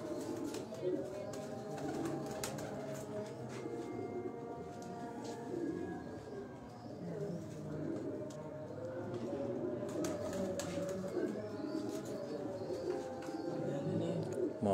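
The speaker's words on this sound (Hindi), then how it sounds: "ये अली भाई के घर के 200 मिस्से कबूतरों का आपको शौक करवाया जा रहा है।" Pigeons cooing on a rooftop loft housing a large flock of around two hundred birds, soft overlapping coos running steadily throughout with background voices talking over them.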